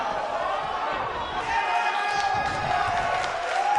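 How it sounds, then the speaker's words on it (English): A large arena crowd in WWE 2K19 roars and cheers steadily, a broad sustained wash of noise with layered voices and organ-like tones over it. "We have a sold-out, record-setting crowd here for BCW tonight."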